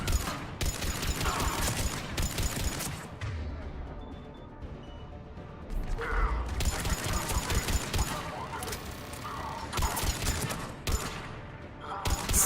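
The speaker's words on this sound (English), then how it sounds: "Somebody put up a turret." Turret gunfire in the sci-fi shooter video game Mass Effect: long bursts of rapid automatic fire in repeated volleys with short gaps between them, loud and close, with speech faintly underneath at times.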